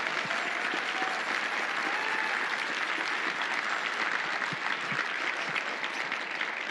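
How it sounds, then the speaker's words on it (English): An audience at the SAINTCON 2023 closing ceremonies applauds steadily for several seconds, a dense, even wash of clapping that neither builds nor fades. "give them a round of applause"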